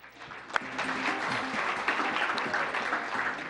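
Applause from an awards-ceremony audience, honoring the best app at the SPARK Awards, a steady wash of clapping held at even loudness, with one sharp clap near the start and faint voices underneath.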